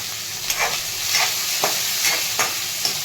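Turmeric and chilli fry and get sautéed in a pan for a potato and capsicum dish, giving a steady hiss with a few soft spatula scrapes every half second or so. No one speaks.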